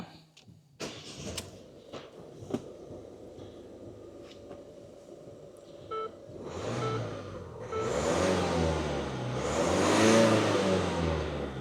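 A few clicks and clunks, then the engine of a Ford Tourneo Connect with a diesel particulate filter fault cranks and fires up, settling into a rough idle before revving louder.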